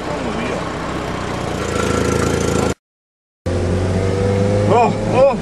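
Engine of an old Datsun car that needs a tune-up, running with low power, a steady mid-pitched drone heard from inside the cabin, briefly cut out, with someone talking over it.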